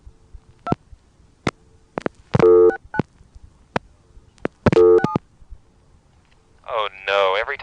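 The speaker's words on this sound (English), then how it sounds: "every time I dial 6 on this phone, I get several digits" Touch-tone dialing on a payphone: sharp clicks and short DTMF tone bursts sound at irregular intervals, then a longer warbling tone rises at the end.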